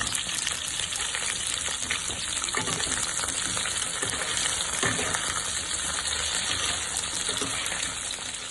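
Large-cut onions lightly frying in oil while being stirred, a dense continuous hiss of sizzling that stays level and loud throughout, with faint spatula movements underneath.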